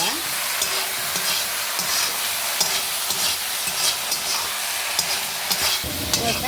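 A ladle stirs an okra stir-fry in a hot pan, sending up a continuous sizzle with repeated scraping and tossing sounds in an uneven rhythm, close and fairly loud.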